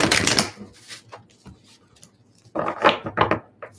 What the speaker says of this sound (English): So let me shuffle these energy cards here.